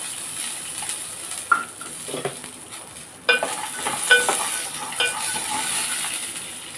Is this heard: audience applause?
no